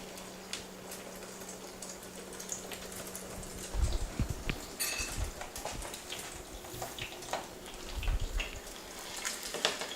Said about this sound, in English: Add the egg to it, or fry the egg rather.